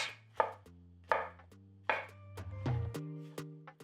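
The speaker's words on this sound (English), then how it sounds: "I'll go ahead and finish slicing all these mushrooms." A knife slices cremini and white mushrooms on a cutting board in about five crisp, evenly spaced cuts. Each cut lands as a distinct thunk with a brief ringing tail, close up, with no talking.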